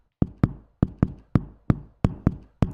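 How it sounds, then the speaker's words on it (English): Soft knocker percussion sample from a Spitfire Audio library: eight crisp, dry knocks in an uneven repeating rhythm, each a sharp close attack with a short woody decay, alone with no voices. "Soft knocker."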